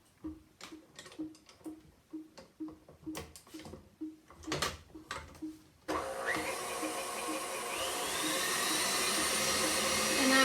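A stand mixer runs steadily as chocolate is mixed into sabayon for a homemade chocolate mousse, starting about halfway through after a series of rhythmic clicking, ticking knocks, then holding a loud, continuous whir that slowly builds.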